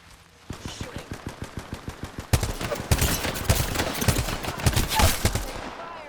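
Rapid video game gunfire rattles in bursts, first an evenly spaced string of single shots, then denser overlapping automatic fire and louder blasts, close and punchy, with faint voices underneath.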